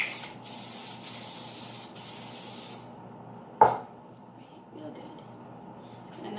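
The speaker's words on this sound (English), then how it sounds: "And spray the bird. Spray it real good." An aerosol spray can sprays a Christmas craft bird in a couple of steady, close hissing bursts, followed by a sharp knock and quieter handling sounds.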